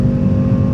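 Race car on the Phillip Island circuit accelerating hard in fourth gear, a loud, close in-car engine roar held at a steady high pitch for under a second, with no talk.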